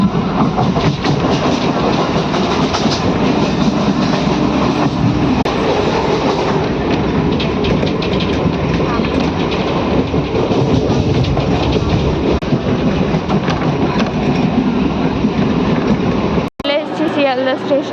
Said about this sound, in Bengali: ট্রেনে আমরা উঠেই পড়লাম।